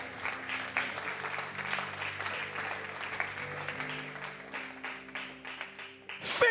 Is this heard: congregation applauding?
yes